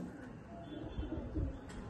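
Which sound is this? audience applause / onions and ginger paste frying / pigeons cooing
pigeons cooing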